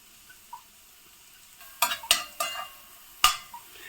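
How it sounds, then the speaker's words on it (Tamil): Butter sizzles softly in a pan as spring onions sauté, while a few sharp stirring scrapes and clatters cut in, no voices present. "ஸோ நம்ம இந்த வெண்ணெயில் போட்டு வதக்கிக்கலாம்."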